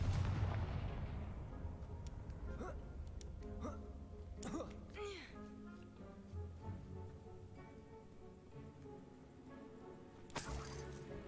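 Several sharp blasts and cracking bursts ring out over a steady low game backdrop in Hogwarts Legacy, fitting the fiery Confringo spell, with one louder broadband burst near the end.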